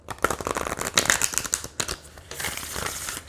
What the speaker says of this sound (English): If you shuffle it this way, I don't have an issue with cards sticking.